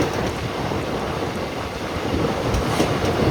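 A train on the Mumbai to Jaipur route rumbles steadily, a loud, continuous broadband roar of wheels and carriage noise heard from inside with no pauses.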